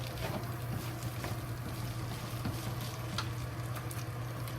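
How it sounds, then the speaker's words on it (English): Bacon fried rice frying slowly in a pan gives a steady, moderate sizzle. Soft crackles run through it for the whole stretch, with no talking. "Slowly fry."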